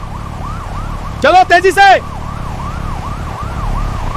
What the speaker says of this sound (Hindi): सायरन बजा रहा है, अभी निकलते हैं।